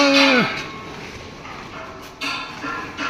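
A single loud, low moo from a buffalo opens the clip, dropping away into quiet outdoor background noise.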